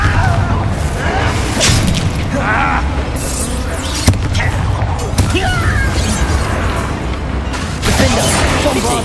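Confringo spell blasts go off during combat in Hogwarts Legacy, with repeated loud booms and crashes over a dense bed of game effects, with voices heard in the mix.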